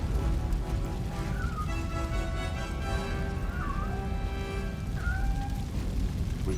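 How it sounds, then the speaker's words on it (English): A cat meows three times in the Robocop Rogue City video game, with short rising-falling cries spaced a second or two apart over a constant bed of rain and ambient game noise. "I also hear a cat"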